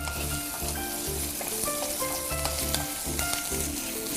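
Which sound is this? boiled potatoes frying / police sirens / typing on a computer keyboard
boiled potatoes frying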